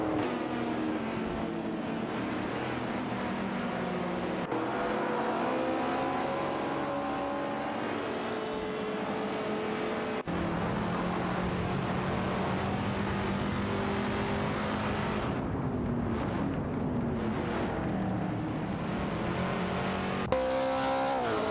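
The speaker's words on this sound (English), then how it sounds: "Unknown Knowns and Edelbock are now fighting for the 3rd spot in their Holden Monaro 73 and Fiat X19 Dallara, respectively." Race cars in an AI-driven racing video game, including a 1973 Holden Monaro and a Fiat X1/9 Dallara, accelerate with steady layered engine drone and shifting revs, continuous and fairly loud throughout.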